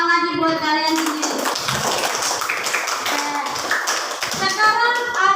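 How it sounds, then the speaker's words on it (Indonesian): A classroom of children bursts into sustained group applause lasting several seconds, dense and close, with a voice and an adult speaking just before it starts. "Tepuk tangan lagi buat kalian sendiri."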